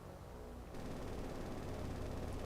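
Dense, continuous gunfire from a naval battle in the video game War on the Sea, a steady rattling barrage that jumps louder partway through and keeps going unbroken, with no talk.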